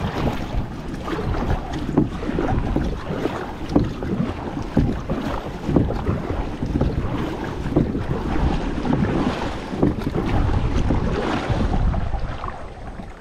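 Old Town Sportsman 106, a short 10'6" boat, paddled on open water: repeated paddle strokes and splashes in a steady rhythm, with wind buffeting the microphone throughout.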